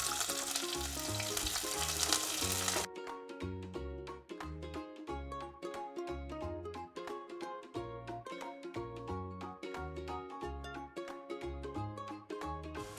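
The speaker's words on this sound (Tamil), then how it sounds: "கடுகும் பெருஞ்சீரகமும் போடுறேன்." Mustard seeds, fennel seeds and red onion hit hot oil for a Jaffna-style prawn curry, giving a loud, dense sizzle for about three seconds before rhythmic music takes over and buries it.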